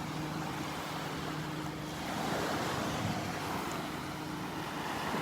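Rough morning surf rolling in at Delnor-Wiggins beach, a steady wash of waves with wind buffeting the microphone, fairly soft and continuous without any voices.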